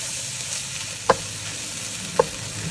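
Vegetables stir-frying over a full high flame with chicken powder, a loud even sizzle broken by two distinct clanks of a utensil against the pan.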